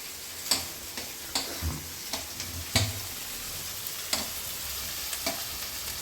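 Onions frying in a pan, a steady soft sizzle with irregular clicks and scrapes of stirring, moderately quiet and with no voices.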